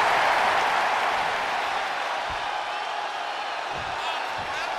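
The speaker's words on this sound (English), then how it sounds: "Randy Orton feeding off this electric crowd." Crowd noise in the WWE 2K23 wrestling video game during a Royal Rumble match, a broad steady roar of cheering that fades slightly, with a couple of faint thuds and a commentator's voice partly over it.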